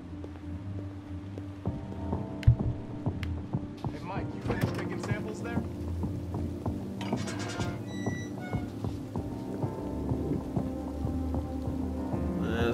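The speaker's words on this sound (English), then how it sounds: "so much rain." Heavy rain in the video game Detroit: Become Human patters steadily over a constant wash, mixed with clicks, mechanical tones and occasional louder knocks, with in-game sounds layered over the downpour.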